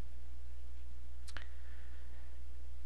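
A single sharp computer mouse click during a software installation, brief and close against a steady low electrical hum, with no talking.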